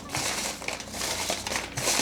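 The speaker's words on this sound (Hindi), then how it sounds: "तो हम यहाँ पर आपके चिट्स को शफल करते हैं।" Paper chits shuffled together by hand during a tarot-style reading give a close, continuous soft crinkling and rustling for about two seconds, with no voice.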